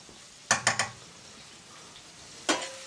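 Raw tomatoes with salt stirred in a curry pan for a Rogan Gosht, a quick cluster of three spoon knocks against the pan over a soft sizzle, then one more clank later, no talk.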